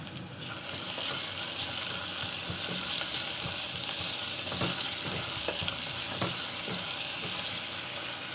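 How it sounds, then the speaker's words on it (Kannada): Curry leaves fry in hot oil in a pan, giving a continuous dense sizzle and crackle with scattered sharp pops and a few scraping stir sounds. The frying is close and fairly quiet, and nobody speaks. "ಫ್ರೈ ಆಗಬೇಕೀಗ. ಕರಿಬೇವು ಸೊಪ್ಪು ಹಾಕ್ತಾಯಿದ್ದೀನಿ."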